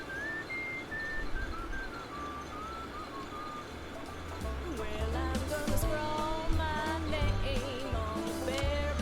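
Video game whistling played to match button presses, a steady run of bright whistled notes stepping up and down over a continuous background bed, growing busier with a rhythmic low backing partway through.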